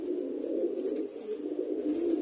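A female pet pigeon, recovering from leg weakness, coos softly and continuously up close, a low throaty murmur with no talking.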